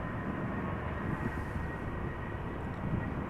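A Ryanair Boeing 737-800 bound for Dublin begins rolling at Amsterdam Schiphol, its engines a steady, distant broadband roar that holds level throughout.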